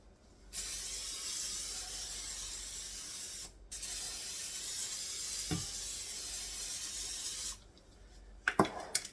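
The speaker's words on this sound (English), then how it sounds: "So we're going to spray our pan really good" Long bursts of steady cooking oil aerosol spray hissing onto a 10-inch cast iron pan, close and loud, with a brief pause between them and a few clatters at the end.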